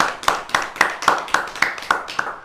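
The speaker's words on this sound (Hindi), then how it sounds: "तालियां।" Audience clapping at a Vigyan Prasar climate change programme, heard as a steady run of distinct, evenly spaced claps, about three per second, fairly close and alone.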